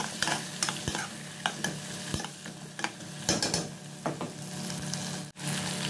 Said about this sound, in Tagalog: Gisa-gisa lang natin to. Gawin natin itong light brown mga kauragon, yung patatas.